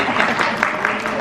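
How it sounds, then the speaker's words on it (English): Audience applause at a talk on a stage, a dense, steady wash of clapping filling the whole moment, fairly loud and close, with a voice partly present over it. "Round of applause."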